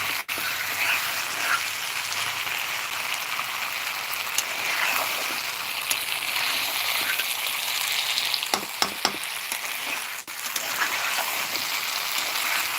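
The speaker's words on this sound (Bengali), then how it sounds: "চিকেন রান্না করছি তো ধীরে ধীরে কষিয়ে কষিয়ে চিকেনটা রান্না করছি" Chicken sautéed slowly on a rooftop stove sizzles in a pan with a constant dense hiss, broken by occasional scraping stirs and a few sharper ticks near the end.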